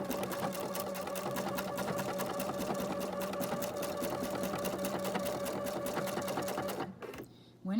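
Pfaff sewing machine stitching ribbon, a steady fast mechanical rattle running loud and close for about seven seconds before it stops, with no talk.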